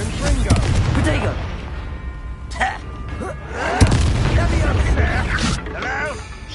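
A blasting-spell explosion in a PS4 video game erupts as loud booms and bangs over heavy, rumbling game noise, with voices talking across the fight.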